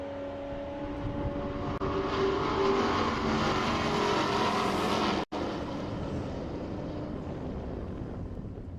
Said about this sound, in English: we have the first of our supercharged cars in the lanes already